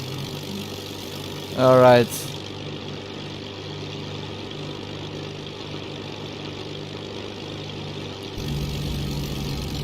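Supermarine Spitfire Mk1a engine in Microsoft Flight Simulator, played in VR, idles with a steady low drone throughout, briefly interrupted by a short spoken word and a sweeping rising tone before a slightly louder hum settles in.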